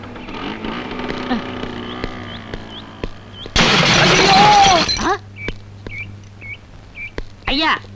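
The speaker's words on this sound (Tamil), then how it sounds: "இப்ப ஸ்கூட்டர்ல போனானே அவன் ஆக்சிடென்ட் ஆகி செத்து போயிட்டான்" A scooter crash in a traffic accident: a sudden loud burst of smashing and breaking impact lasting over a second, set among sparse electronic tones and chirps before and after.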